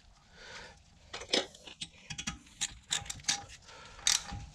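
A ratchet clicks in short irregular bursts while a bolt is tightened on the rear brake of a Mini Countryman, with metallic taps between, close and moderately quiet.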